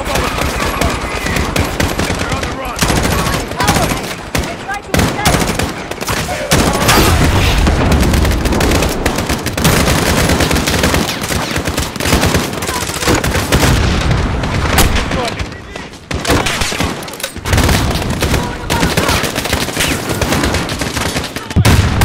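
Loud minigun fire in the video game Call of Duty: Modern Warfare, long roaring bursts of rapid shots mixed with booms and explosions, nearly continuous across the whole stretch with only brief dips.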